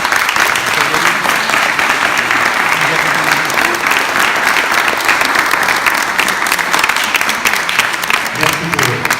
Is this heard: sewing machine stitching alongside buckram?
no